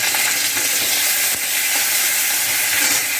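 Chopped tomato fries in a pan alongside raw green mango, giving a steady close sizzle and hiss with faint stirring sounds.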